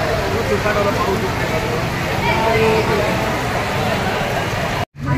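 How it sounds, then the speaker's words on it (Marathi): Dense, steady hiss of heavy rain pours down continuously at Khed bus depot, loud and close, with muffled voices underneath, cutting off abruptly near the end. "आता जोरदार पाऊस आला."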